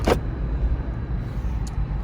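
A Jeep shifted into drive and starting to move, giving a steady low engine and road rumble throughout with a brief mechanical click at the start.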